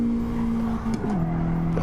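A Toyota race car at Fuji in a driving game, its engine holding a steady, loud drone before the pitch drops sharply on a quick upshift to fourth gear and settles at a lower note.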